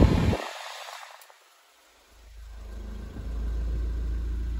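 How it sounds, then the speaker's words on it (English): A 2017 VW Caddy 2.0L diesel panel van idles, with a low steady engine rumble rising in after a brief dip in sound and then settling into a constant, close hum. "idles perfectly"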